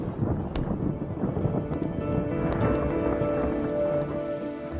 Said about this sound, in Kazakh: Мыңдаған жылдар бойы жауған жаңбыр